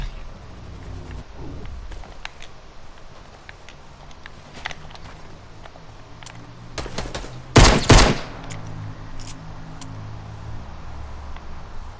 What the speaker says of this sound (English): I would appreciate if this guy would stop shooting at us